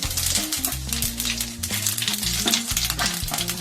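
Bay leaf and fennel seeds hit hot oil and sizzle loudly and continuously at close range, a steady frying hiss with no voices over it.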